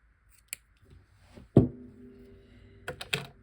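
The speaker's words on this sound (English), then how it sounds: "Get these scissors to work here" Scissors snip through a waterproof seashell necklace string: one sharp cut with a short ringing tail, framed by a few faint clicks and handling taps before and a couple of quick snips after.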